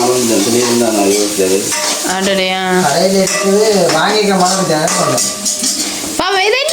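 Onion and ginger fry and get stirred in a pan, giving a close sizzle with scraping and utensil clatter, while people talk over the cooking.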